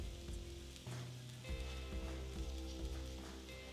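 Onions with a splash of water added hiss and sizzle steadily in a pan on the stove, a close, even crackle that continues throughout with no talking.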